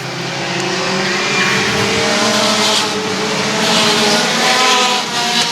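Pure Stock race cars roar around a speedway during a Friday night main event, a loud, continuous engine drone that swells and fades slightly as the pack passes.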